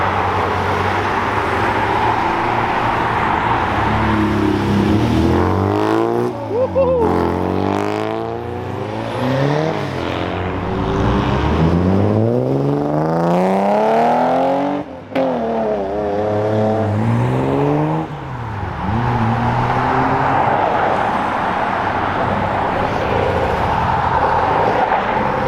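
Several BMW M3s accelerate hard away from Brooklands one after another. Engines rise and fall in pitch with repeated gear-change sweeps, loud and close, with a brief lull mid-way before another car revs past.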